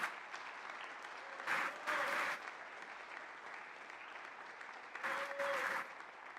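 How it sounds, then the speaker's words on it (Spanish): Steady applause from a church congregation, with a few louder swells of clapping rising and falling, fairly close and continuous throughout. "Dale un aplauso al Rey."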